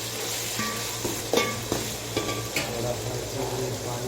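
Soup ingredients fry and get stirred in a pot, a steady close sizzle broken by a few scraping clatters of the spoon against the metal.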